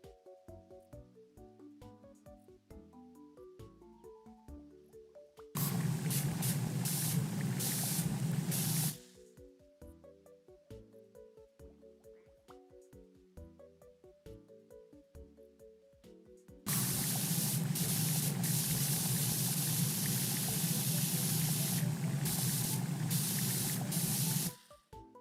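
A pressure washer sprays in the video game Powerwash Simulator 2, a loud steady hiss that runs in two long sustained bursts, separated by stretches of plinking background music.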